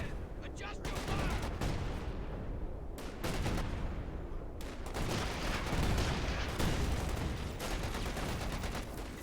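An artillery barrage and gunfire in Company of Heroes 2 combine heavy booming impacts with crackling rifle and machine-gun fusillades in a loud, continuous din, with shouted voices in between.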